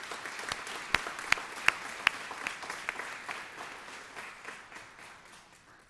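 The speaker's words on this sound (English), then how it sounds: "Give them a round of applause." A crowd applauds at a police department service awards ceremony, with a few sharp, loud claps standing out early, then the clapping thins and fades over several seconds.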